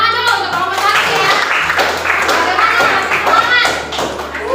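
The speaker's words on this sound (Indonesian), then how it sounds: "tepuk tangan dulu untuk kelompok satu ya" A classroom group claps for the first group of presenters during a lesson, a steady patter of many hands mixed with taps and thumps over a low music bed, fairly loud and continuous throughout.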